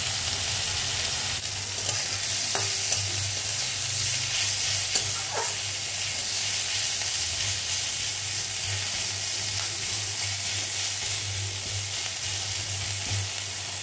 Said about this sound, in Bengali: পেঁয়াজটা একটু নরম করে ভেজে নেব।